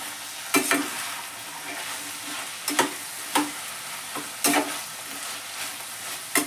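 Green beans, potato and fresh green peas are stirred into a kurma in a frying pan, the spoon scraping in about eight irregular strokes over a soft continuous sizzle, with no voices.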